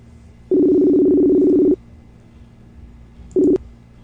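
An outgoing phone call rings out: a long tone burst of about a second, a pause, then the start of a second shorter burst, clear against a quiet background.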